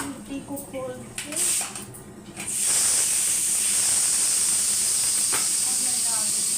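A few clinks and short hisses give way to a loud, sustained high-pitched steam hiss from a pressure cooker whistle being opened, continuing steadily to the end.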